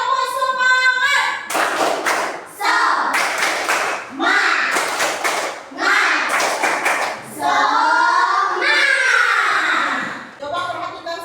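Classroom pupils clap in rhythmic bursts during a chant-and-clap routine, sharp patterned claps alternating with children's voices chanting along.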